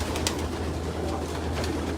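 Pigeons at a loft coo in a low, steady murmur, with a brief brighter flutter or call near the start over constant soft background noise.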